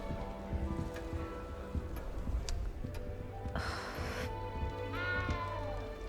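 A cat meows in Hogwarts Legacy, one drawn-out mid-loud call followed by a shorter one, set against steady ticking and layered ambient game music inside the castle.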